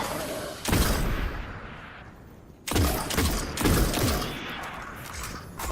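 Gunfire in the shooter Destiny: Rise of Iron, loud bursts of shots around one second and again from near three seconds on, separated by a quieter stretch of echoing ambience.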